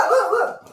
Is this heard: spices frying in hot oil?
no